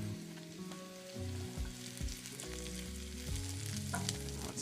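Mushrooms sauté in oil in a pan with a lively, close crackling sizzle that runs throughout, while tonal background music plays softly underneath.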